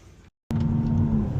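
A new Audi RS5 drives a steady lap at Goodwood Festival of Speed, heard as a continuous close engine drone with road and cabin rumble that cuts out briefly before resuming at the same steady level.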